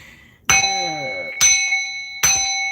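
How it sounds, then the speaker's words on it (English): Three strikes on a ritual bell, each a sharp metallic clang ringing out with long sustained tones, spaced about a second apart, loud and close. "Let's bang on the bell to remove all energies"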